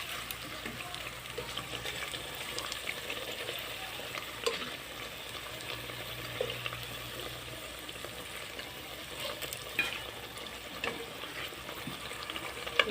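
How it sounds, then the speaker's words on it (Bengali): Battered eggplant fritters crackle softly in oil while pieces are lifted out one by one, a faint, even sizzle with light stirring and scraping sounds and no speech. "সবগুলো বেগুনি ভেজে নিয়েছি একটু সময় নিয়ে ভাবছি যাতে বেগুনিগুলো অনেক মুচমুচে হয়"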